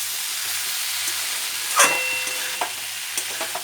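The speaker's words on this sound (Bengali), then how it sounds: "নুন চিনি সব দিয়ে এঁচোড়টাকে একটুখানি কষাবো" Jackfruit sautéed in a pan with salt, sugar and spices gives off a steady, close frying hiss with a bright clink of a utensil and a few faint stirring taps, no voices.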